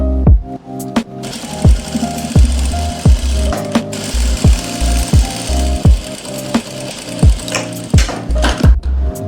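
A sewing machine runs in repeated short bursts, stitching a sleeve design with quick mechanical ratcheting, clicking pauses between runs, loud and close with no talking.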